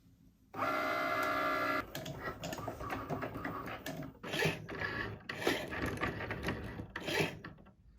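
A Cricut cutting machine debosses place cards with a steady whirring motor at first, then turns to irregular clicks, taps and mechanical shuffling as the carriage moves. The sound is fairly faint and there is no talking.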